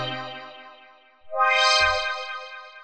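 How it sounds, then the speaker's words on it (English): Synthesized dub chord swells for minimal house, made with Synth Vision: a rich sustained chord fades out, then a new chord swells up bright and loud with a resonant filter sweep and a low thump underneath. "synth vision is great for these kind of dub chord swells that you can hear in a lot of minimal house"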